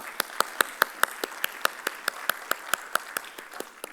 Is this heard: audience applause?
yes